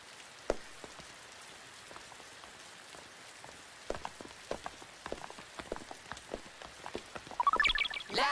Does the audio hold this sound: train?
no